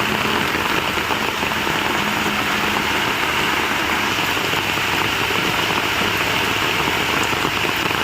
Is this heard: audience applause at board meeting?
no